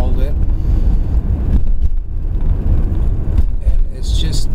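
A 1997 Pontiac Grand Prix being driven, with a loud, continuous engine and road rumble plus wind buffeting heard inside the car while someone talks.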